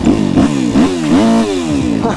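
An enduro motorcycle engine descends under engine braking, its loud buzzing note rising and falling in short swoops over about two seconds.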